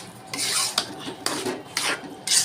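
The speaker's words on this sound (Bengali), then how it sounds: "এখন কাবাবের মশলাটা আমি মাংসের সাথে ভালো করে মিক্স করে নেব।" Beef being mixed by hand with kebab spice for shahi beef kebab, in wet rubbing, rasping strokes that come in short bursts, close and fairly quiet, no talking.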